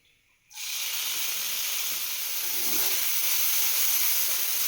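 Blended amaranth leaf omelette batter hitting hot ghee in a pan: after a brief quiet moment a sudden loud hiss erupts and holds as a steady, close sizzle to the end.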